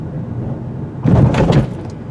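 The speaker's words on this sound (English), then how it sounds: "the rattling noises you hear, it's not the vehicle, it's the tools I have in the trunk" Tools rattling loose in the trunk of a 2020 Hyundai Venue SEL as it goes over a speed bump: a short burst of clattering knocks over a low rumble of road noise inside the cabin.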